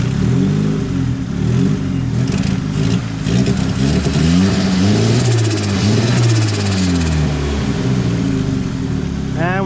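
A turbocharged Mazda Miata with RX8 fuel injectors revs hard under boost, its engine roaring loudly and continuously with rising and falling pitch as the throttle is blipped, close up, with some clatter.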